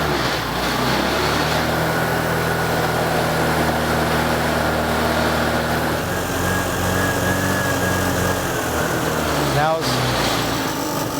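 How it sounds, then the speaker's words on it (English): Modern Vespa scooter engine running with the throttle held open as its carburetor runs out of fuel; a continuous, close, buzzy drone that falters slightly near the end, with someone talking over it. "see, I'm giving it gas. I'll continue to do that. Until the motor just stalls out on its own."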